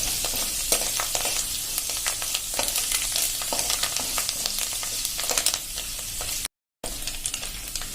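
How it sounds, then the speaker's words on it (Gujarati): Spices and fenugreek seeds frying in oil sizzle loudly and closely, with brisk crackles and pops and repeated scraping stir strokes, no voices, and a brief cut to silence near the end. "આ રીતે આપણે એકદમ સરસ મસાલો ફ્રાય કરી લેશું।"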